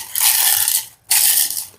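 A mixer grinder crushes freshly picked tea leaves in two loud bursts, each a harsh rattling whir close by, separated by a brief stop.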